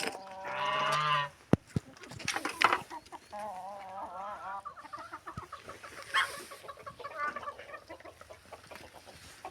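Chickens cluck and squawk at close range, with a loud burst of calls near the start followed by softer, irregular clucking and scratching sounds.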